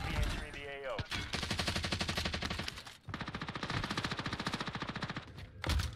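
Sustained rapid automatic gunfire in the Warzone battle royale game, close and loud. Long steady bursts are broken by brief pauses and a final short volley, over a busy mix of game sounds.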